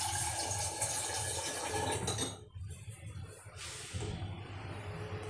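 Water runs into bottles being filled in a home kitchen, a close splashing pour for about two seconds, then a brief pause before another softer stream of water starts.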